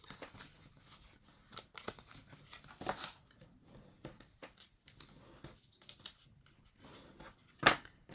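Scrapbooking paper being scored and creased into folds for a home-decor candle holder, heard as scattered soft crinkles and crisp paper scrapes, with a sharper rustling burst near the end, close and quiet with no talk.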